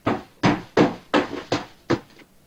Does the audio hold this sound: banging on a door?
yes